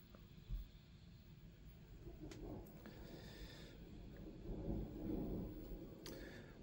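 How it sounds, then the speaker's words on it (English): Thunder rolls through a thunderstorm outside near a front yard and road, a low continuous rumble with a couple of louder swells, steady and moderately distant throughout. "unfortunately we're getting a thunderstorm"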